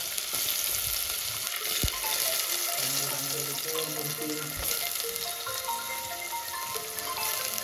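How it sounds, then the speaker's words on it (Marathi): Garlic sizzles in hot oil for a tempering, a steady broadband crackle running throughout with a few clinks and soft background sounds mixed in, with no talk over it. "लसूणची फोडणी द्यायला पाहिजे ना"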